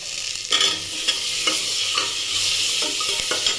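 Chopped vegetables hit a hot pan for chicken soup, raising a steady close sizzle broken by sharp scrapes and clacks of stirring every half second or so, with no talk.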